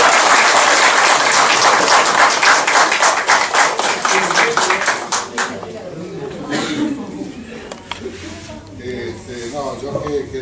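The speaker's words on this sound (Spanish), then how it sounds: "antes de seguir, un aplauso" Loud audience applause at a Lions Club authority-change ceremony, steady clapping that thins out midway and gives way to murmuring chatter and voices in the room.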